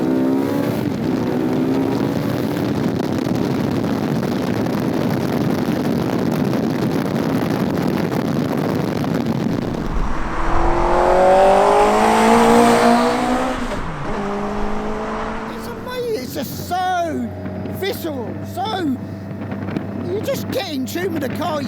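An MK Indy Sport 200 running a 205-horsepower Suzuki Hayabusa engine accelerates hard, its motorcycle-derived howl rising through several gears amid heavy wind rush, then easing off near the end.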